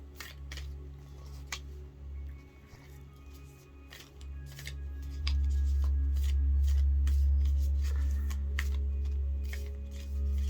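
Cards are handled and laid down, giving crisp rustles, flicks and soft slaps scattered over a steady low hum, fairly close and quiet.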